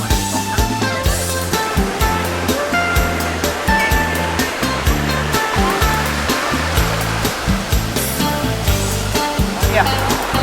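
A rushing waterfall stream roars with loud, constant churning water, with rhythmic thumping underneath throughout.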